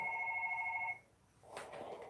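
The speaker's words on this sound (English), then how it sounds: "It's a phone." A telephone rings in the video game Petscop, one steady electronic tone lasting about a second, fairly quiet, followed by a soft muffled clatter.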